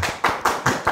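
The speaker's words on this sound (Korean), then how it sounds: "여러분 박수." Studio audience clapping on a talk show, a few sharp claps in a regular rhythm, close and crisp with brief decays between them.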